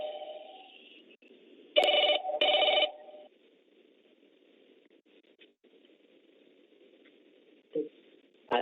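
A telephone rings in two short, loud bursts as a call is being connected, followed by faint background noise and a couple of brief clicks.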